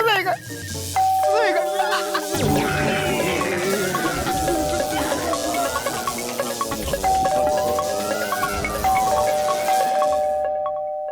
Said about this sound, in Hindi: मेहर, दरवाजा तो खुला है पर घंटी कौन बजा रहा है?